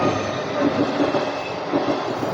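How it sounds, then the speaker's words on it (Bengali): A train rolls past a railway level crossing close by, its wheels giving a loud, steady rumble with rhythmic clacking over the rails and faint squeal, no speech heard. "আজকে কপাল ভালো, ট্রেন চলেও আসলো"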